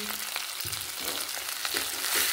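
Green chillies fry in a hot pan with a dense, hissing sizzle and a few soft pops and stirs close by, no voices present.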